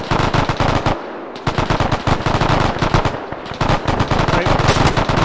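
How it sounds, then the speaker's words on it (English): Loud, rapid automatic gunfire fills a military shooter video game battle, with sustained machine-gun bursts broken by a couple of brief pauses. "Take cover, fire at will."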